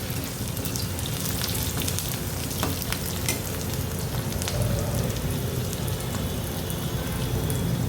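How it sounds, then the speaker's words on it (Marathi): Chopped onion frying in oil for a mutton curry, a steady close sizzle with crackling that runs evenly and loudly throughout, with no talking. "कांदा लालसर असा भाजत आलाय"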